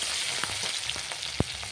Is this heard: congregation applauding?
no